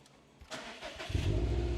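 A Subaru Impreza WRX engine cranks briefly and catches, settling into a low rumbling idle that grows louder, heard close with no talking.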